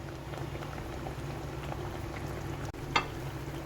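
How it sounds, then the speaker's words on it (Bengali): Dhoka curry bubbling in a pan, a soft, steady simmering burble close by and uninterrupted, with a single small knock near the end. "কারিটা ফুটছে"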